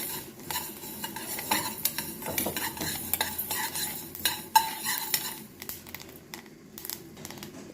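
Fenugreek seeds fry in a pan while a spoon stirs them continuously, giving steady light scraping and clinking against the metal over a soft, faint sizzle, with a few sharper taps along the way.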